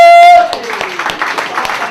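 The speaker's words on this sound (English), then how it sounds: "Give him lots of applause." Audience applause for a comedian at a comedy show, scattered clapping rising after a brief spoken tone, moderately loud and continuing to the end.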